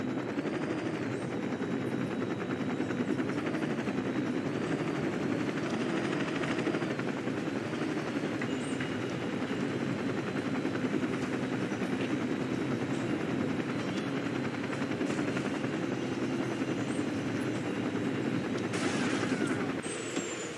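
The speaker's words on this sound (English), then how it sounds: "As we slowly land our helicopter." A helicopter in the video game Saints Row 2 slowly comes in to land, its rotor and engine droning steadily and loudly throughout with no pause.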